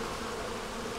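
Honey bees buzz at a nursery hive in the morning sun, a dense close continuous hum from many insects with no break.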